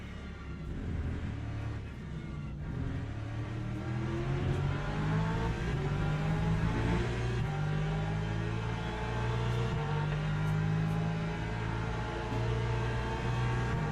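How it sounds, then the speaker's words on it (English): A racing car's flat-six engine heard from outside in a racing video game, a steady loud drone with rising and falling pitch as it revs through the gears, no voices over it. "Well, there you have the flat 6, just from outside."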